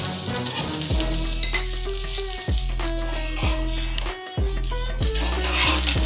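Kolkata-style Mughlai paratha fries in refined oil, a continuous loud sizzle close up, broken by several spatula scrapes and clatters against the pan, with no talking.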